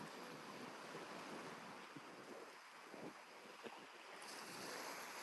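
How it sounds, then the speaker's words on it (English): Ocean waves wash onto a beach where children play, a constant broad roar of surf mixed with wind buffeting the microphone and no voices. "The children enjoying the waves."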